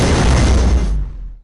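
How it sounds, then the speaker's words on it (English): A laser cannon fires in an interactive video game room, one loud, broad, booming blast that holds briefly, then fades out quickly. "we've got our laser cannon"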